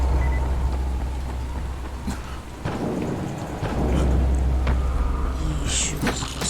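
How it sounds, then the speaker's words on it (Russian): Steady rain in the video game Dying Light, a dense continuous wash with low rumbling and occasional creaks and knocks, no talking. "Дождь."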